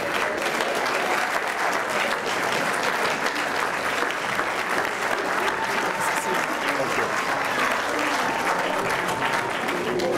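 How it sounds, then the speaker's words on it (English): A commencement audience gives a big round of applause for graduates of a spring 2012 class, sustained dense clapping from a large crowd that carries on loudly and evenly for about ten seconds. "Let's give one more big round of applause for the 23 graduates of the class of spring 2012."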